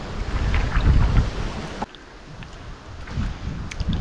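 Wind blowing steadily at the windy mouth of a strait during trolling on the water, a broad rumbling wash with gusty buffeting on the microphone, easing briefly midway before rising again.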